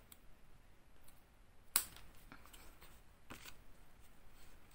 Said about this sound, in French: Et avec la paire de ciseaux, donc je coupe l'excédent.